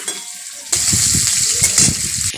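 Fish roe from koi fish hits hot oil in a pan for a Bengali curry, bursting into a loud, crackling sizzle that holds steady with bubbling pops, close and without voices.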